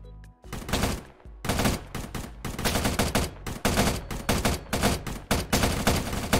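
Rapid gunfire from military weapons in a Minecraft Bedwars game, dense bursts of loud shots in quick succession throughout, close and continuous with brief gaps.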